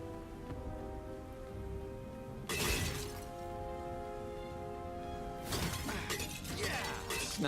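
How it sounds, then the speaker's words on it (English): Objects being smashed in the video game Stories: The Path of Destinies, with two bursts of crashing, shattering destruction over a steady bed of game music and ambience, the later burst breaking into several rapid crunches. "Smashing things was fun."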